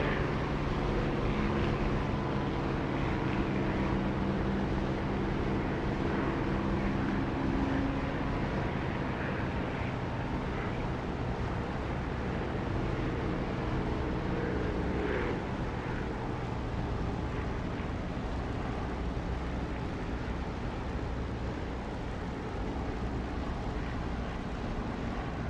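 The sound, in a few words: aircraft engine near runway in flight simulator video game, DCS or War Thunder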